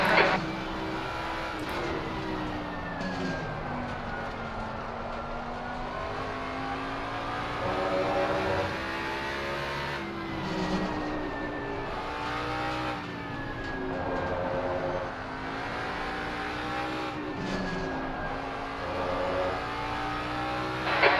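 Race car engines in Assetto Corsa Competizione vintage GT racing at Suzuka, a continuous loud, close engine drone rising and falling through gear shifts and revs for over twenty seconds.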